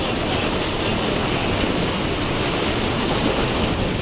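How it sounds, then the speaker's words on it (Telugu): Krishna River water flows and churns in a steady, loud, unbroken rush heard up close, with no voices over it. "నీళ్ళు చూడండి ఎట్లా తుముకుతా ఉందో."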